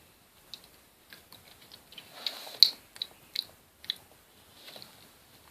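Cream cake layered with whipped fresh cream and sponge being bitten and chewed close up, soft quiet munching with a few sharper crisp bites scattered through the middle, no talking.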